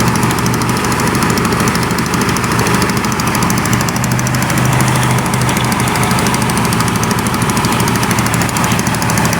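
A motorcycle engine runs steadily and loudly up close, a continuous rapid chugging drone with no break and no talking over it.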